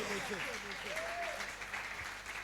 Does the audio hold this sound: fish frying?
no